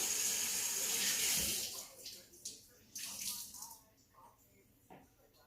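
Tap water runs steadily into a sink to wet a paper napkin, a broad rushing stream that stops after about two seconds, followed by a few faint handling clicks and small splashes.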